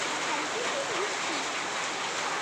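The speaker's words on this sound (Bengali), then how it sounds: "দেখছেন কি পরিমাণ বৃষ্টি হচ্ছে।" Heavy rain falls steadily in Dhaka, a dense, even wash of downpour close by with no breaks, faint tonal squeaks flickering through it.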